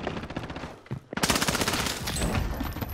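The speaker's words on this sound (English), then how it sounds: "This MP7 hip fire is great." Rapid MP7 submachine gun fire in a first-person shooter, a loud dense burst of shots that pauses briefly, then resumes as continuous close automatic fire to the end.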